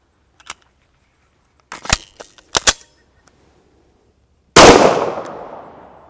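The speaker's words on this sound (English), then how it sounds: "what about 9mm out of the Glock 34?" Gunfire from a Glock 34 firing Remington 115-grain 9mm jacketed hollow points at a Level 4 plate carrier insert: a few short sharp cracks spaced apart, then one loud close blast with a fading ring, no talk.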